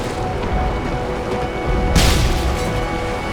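A grenade explodes in a modern military shooter campaign, a single heavy boom about two-thirds through that rises over a steady roar of battle noise.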